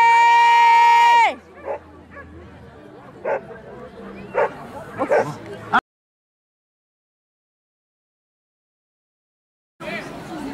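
A dog lets out one loud, drawn-out bark up close, followed by softer scattered sounds, then a stretch of silence before the noise resumes.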